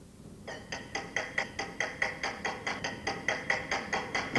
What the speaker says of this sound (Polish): To był dźwięk trzepaczki, prawda? Do ubijania białka,